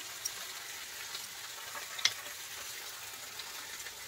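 Garlic and four dried red chillies frying in a pan for a mustard rohu fish curry, a soft, steady sizzle at low level with a few faint ticks and one brief sharp crackle midway, no voices.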